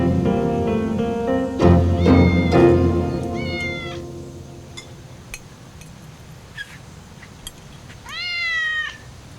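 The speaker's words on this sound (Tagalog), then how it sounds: "Yung pusa, dinidikit yung katawan niya sa binti ko." A house cat meows several times, some calls near and loud, others faint and sparse, with long rising-falling wails at the start and end and quiet gaps of light background noise between.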